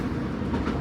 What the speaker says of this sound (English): That's me in Newcastle on the train to Carlisle.